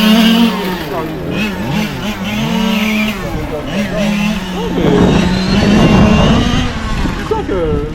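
A loud engine on a Genius XR3R kart drones and revs during practice, rising and falling in pitch, with people talking nearby.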